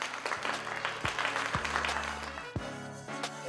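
An audience claps in a round of applause for Brother Jason Murray at a Black culture and Martin Luther King legacy event, the clapping fairly quiet and steady while low sustained tones and a voice run underneath.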